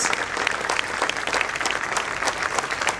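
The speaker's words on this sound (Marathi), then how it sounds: "आणि हा टाळ्यांचा कडकडाट" Steady audience applause at a hostel inauguration ceremony, dense and continuous clapping from a crowd throughout, fairly close and loud with no talk over it.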